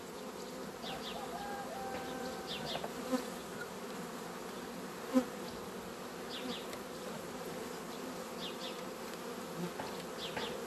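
Honeybees swarm over a strong colony's hive frames packed with brood and stores, a steady, soft, continuous buzz with a few faint knocks and brief louder passes close by.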